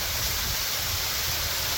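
A steady rush of flowing water from a brook tumbling over rocks as it flows off Mount Pisgah toward Lake Willoughby, Vermont, continuous and fairly close with no talking.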